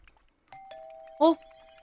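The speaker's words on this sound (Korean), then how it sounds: "헉, 초인종 뭐야?" A doorbell in a horror video game sounds a clear, ringing chime with a lingering tone, then a voice reacts in a sharp, startled exclamation.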